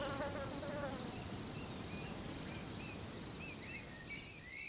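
Dense swarm of bees buzzing steadily around one huge lavender plant in a June garden, a continuous close hum with no voices, with some faint birdsong in the background.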